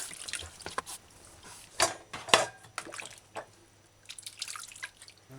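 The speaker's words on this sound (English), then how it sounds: "Give your vegetables a final rinse. It's best if you do this part under fresh running water." Vegetables rinsed under running tap water for a side salad, with scattered drips and splashes and a few sharper clatters against a sink, fairly quiet and close.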